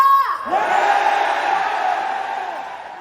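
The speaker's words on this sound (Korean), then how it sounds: "함성 너무 작아. 더 크게 해야 될 것 같아." A large concert crowd at a show in Seoul roars and cheers loudly, a sustained wall of screaming and whooping voices filling the hall after a brief shout.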